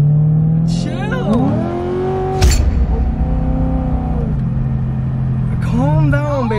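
A car engine revs hard and rises in pitch as the car pulls away, loud and close, with people talking over it.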